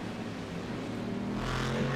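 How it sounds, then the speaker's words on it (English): Race cars lap a track in a sim racing game, a steady blend of engine drones with layered harmonic tones that build slightly toward the end, no voices. "the cars going round the track."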